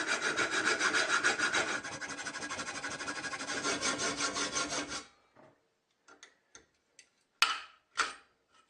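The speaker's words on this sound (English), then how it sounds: "I'm going to cut a big hole in the guard right about here." A saw cuts a hole through a plywood saw guard: about five seconds of loud, close, rapid rasping strokes, then the cutting stops and only a few faint scattered ticks and knocks follow.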